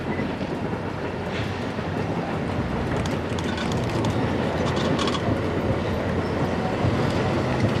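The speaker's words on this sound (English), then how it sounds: "here comes more Metra action on the Joliet sub-bridge, one of them being the Rock Island Heritage Unit" Metra commuter train with the Rock Island Heritage Unit crossing the Joliet sub bridge: a steady, loud, dense rumble of wheels and cars passing continuously, with faint clickety-clack and some wind buffeting on the microphone.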